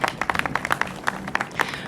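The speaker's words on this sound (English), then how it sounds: "round of applause, absolutely" Scattered hand claps from an audience at a San Francisco civic event with Mayor London Breed, a modest round of applause with distinct individual claps rather than a dense roar.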